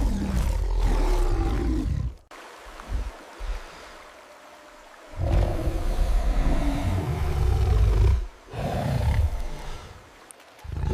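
King Kong lets out thunderous roars, deep rumbling bellows in long, loud bursts separated by short pauses, heavy with low rumble throughout.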